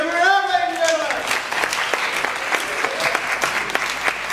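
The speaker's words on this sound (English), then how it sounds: "Give her a hand, ladies and gentlemen." Audience at a faerie festival ball clapping for a singer, a brief burst of applause with cheering, after which someone speaks over the fading claps.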